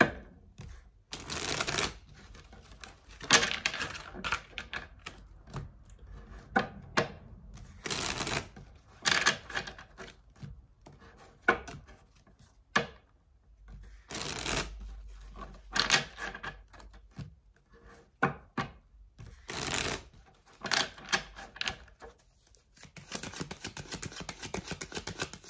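Playing cards are shuffled repeatedly in quick riffling bursts separated by short pauses, close and crisp, with no voices.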